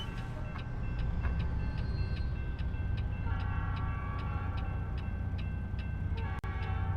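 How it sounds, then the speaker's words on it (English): A video game train rumbles steadily past a truck in a trucking simulator, with rhythmic clicking of wheels over rail joints, a constant loud roar and a faint horn-like tone. "Sorry, I got distracted by the train there"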